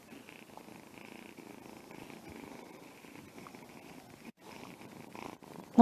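A cat purrs after its bath while wrapped in a towel, a close, steady rumbling purr with rhythmic breaths and a short break near the end.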